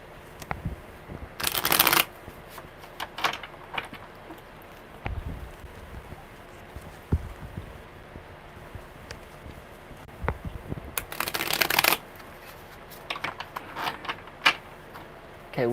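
Tarot cards being shuffled by hand in two loud riffling bursts, separated by softer taps, handling clicks and card movement.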